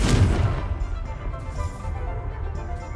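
Spell blasts from Bombarda and Confringo in the Hogwarts Legacy video game: a loud booming impact up front with a low rumbling thud, then a sustained crackling, rumbling tail under faint game ambience, with no talking.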